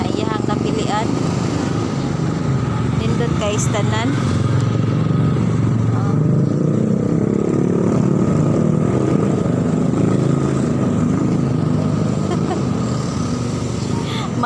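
A child's motorcycle runs with a steady, continuous engine drone close by, while people talk over it throughout.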